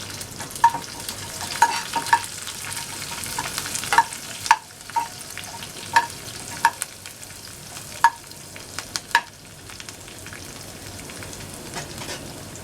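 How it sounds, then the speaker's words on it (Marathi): Garlic and curry leaves sizzling in hot oil for a Marathi varan tempering, a steady close crackle with sharp pops and spatters scattered throughout, no talking. "कढीपत्ता घालणार आहोत लसूण आणि लसूण छान लाल होऊ द्यायची आपल्याला"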